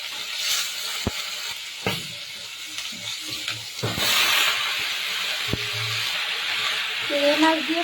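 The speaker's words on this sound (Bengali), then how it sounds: "চিংড়ি মাছ দিয়ে ভাজার সময় আমি নুন হলুদ দিয়ে নিয়েছি" Shrimp frying in a pan with salt and turmeric, a steady sizzle and hiss broken by sharp utensil clicks and scrapes, with a voice talking over it.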